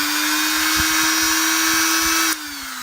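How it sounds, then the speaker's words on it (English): A power drill runs at a steady, loud, high whine during an upgrade of a Surface Pro 3, heard alone with no talk and dropping slightly in pitch near the end. "Make sure you don't block the air holes when you're drilling."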